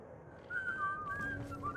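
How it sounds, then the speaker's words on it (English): Two-toned whistling triggered as an audio redeem on a Twitch stream of Skyrim, a wavering melodic line sliding up and down over soft background noise, loud and close for under two seconds. "Just double whistling."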